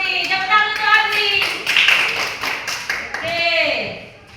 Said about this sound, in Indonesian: Tepuk tangan untuk Audrey.